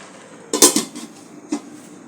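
A lid is set on a cooking pot of fish head and Malabar spinach curry, giving a sharp metallic clank followed by a softer rattle and one more light tap.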